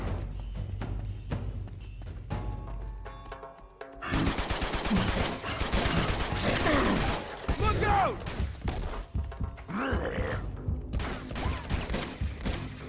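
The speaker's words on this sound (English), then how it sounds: "Just keep shooting." Sustained bursts of automatic gunfire in the video game Uncharted 2 during a fight against hard-to-kill creatures, loud and dense rapid shots with brief lulls and some background effects.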